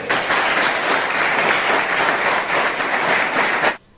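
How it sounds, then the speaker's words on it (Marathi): An audience at a junior college event claps for a student, sustained dense applause at a strong, even level that cuts off abruptly at the end. "त्याचा पुन्हा टाळ्या वाजून स्वागत"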